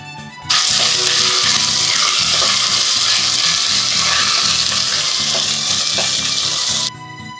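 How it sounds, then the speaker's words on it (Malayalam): Ginger garlic paste sautéing in hot oil for Chettinad chicken fry, a loud, dense, steady sizzle that starts abruptly and holds evenly for several seconds before cutting off, with faint stirring beneath. "ഇനി ഇഞ്ചി വെളുത്തുള്ളിയുടെ ഒക്കെ പച്ചമണം ഒന്ന് നന്നായിട്ട് മാറി വരുന്ന വരെ നമുക്കിത് നന്നായിട്ട് വഴറ്റിയെടുക്കാം"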